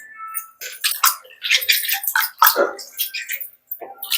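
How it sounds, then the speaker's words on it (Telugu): Bitter gourds (kakarakaya) are washed by hand in water, producing close, irregular splashing, swishing and dripping bursts with short quiet gaps between them and no speech. "మంచిగా ఇట్లా కడుక్కోవాలి శుభ్రంగా కడుక్కోవాలి"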